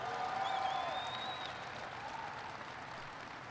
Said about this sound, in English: So give it, Kathleen, a big round of applause.